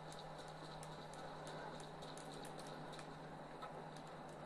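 Horse hooves clip-clop in a video game, a faint, quick patter of steps with scattered clicks over a quiet background hum.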